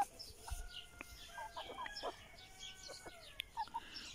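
A hen, one of a line of egg-laying chickens, gives soft, scattered clucks at low volume, with a few sharper short calls breaking in near the end.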